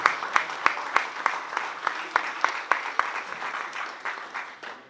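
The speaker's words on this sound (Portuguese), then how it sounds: "Aplauda mesmo, porque esse é o princípio de Deus." A church congregation at a service in Bristol applauds steadily, with sharp individual claps standing out over a continuous wash of hand claps, no talking.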